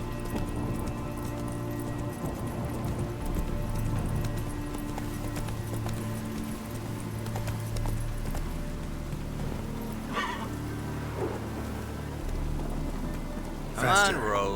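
Roach, Geralt's horse in The Witcher 3, gallops with steady rhythmic hoofbeats under a rainy, rumbling backdrop, with a short whinny and a sharp burst near the end.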